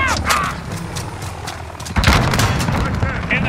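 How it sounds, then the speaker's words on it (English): A grenade explodes in a video game battle, a heavy boom landing midway through amid scattered gunfire and game chatter, loud and close. "Grenade out!"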